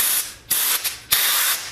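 Short bursts of hissing spray from a fuel pressure gauge being tested on a blown NASCAR race car, three loud, close sprays with brief gaps between them and no talk.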